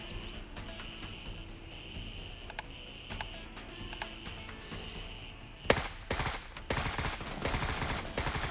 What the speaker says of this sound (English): a shot rings out in the distance